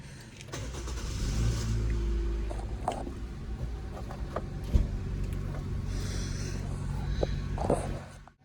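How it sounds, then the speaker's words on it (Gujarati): A four-wheeled car drives along to the market with a continuous low engine rumble from inside the cabin and a few faint knocks and clicks over the drone. "તો હવે અમે લોકો 4 વ્હીલ લઈને જઈ રહ્યા છીએ માર્કેટ."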